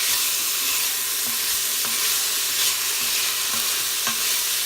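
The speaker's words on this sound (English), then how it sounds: "So I added my sausage, and what we're going to do, we're going to fry these down a little bit," Sausage frying in a pan for red beans and rice, a loud, close, continuous sizzle with small crackles and occasional stirring scrapes, no voices.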